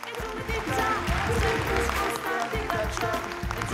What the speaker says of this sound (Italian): Ed inoltre un ultimo applauso alla nostra autrice Teresa Gallina.